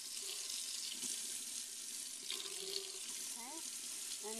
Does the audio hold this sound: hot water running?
yes